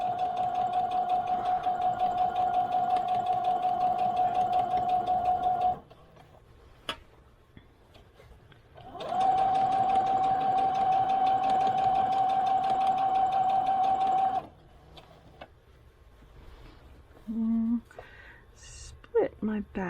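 A sewing machine finishing fabric edges runs in two steady, close stretches of rapid stitching with a pause between, followed by brief bits of handling and talk.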